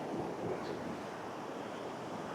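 Waves break and wash on a huge beach in Thailand, a soft, continuous surf roar mixed with wind noise, fairly faint and steady with no voices.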